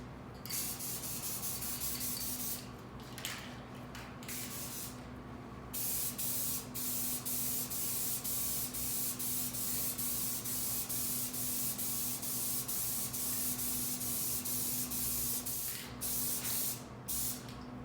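Aerosol can spraying clear coat over Krylon enamel on a speaker cabinet, a close, steady hiss in long passes with a few brief pauses between bursts.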